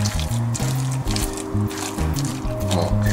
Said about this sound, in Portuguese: Mais um bocadinho de água.